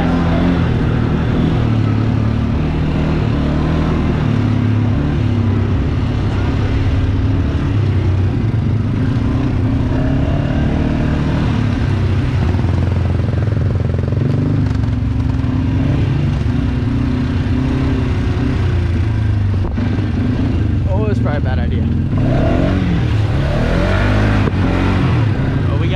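An off-road vehicle's engine drones and revs loudly and continuously while mudding at Sugar Creek, with voices faintly under the roar.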